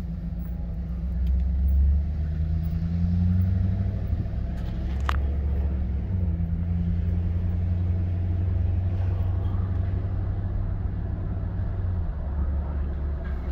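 A 2007 GMC Yukon Denali with a low oil pressure problem drives slowly around a neighborhood, its engine a steady low rumbling drone heard from inside the cabin, with a single faint click partway through.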